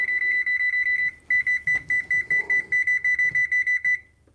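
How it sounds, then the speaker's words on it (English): A kitchen timer being set for 15 minutes, a rapid string of sharp, high electronic beeps that repeat in quick bursts for several seconds before stopping. "I'm going to set the timer for 15 minutes."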